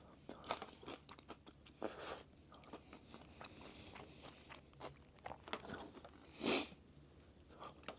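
Close, loud crunching and chewing of crisp cucumber in supermarket sushi in Japan, a string of irregular bites with quiet pauses between them.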